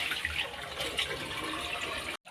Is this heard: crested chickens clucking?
no